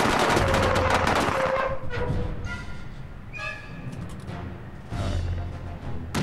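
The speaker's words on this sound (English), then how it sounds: "We just have to shoot them before they shoot us" Automatic gunfire in the video game Indiana Jones and the Staff of Kings: a loud, rapid burst of shots at the start, then separate shorter volleys with echoing tails through the rest of the clip.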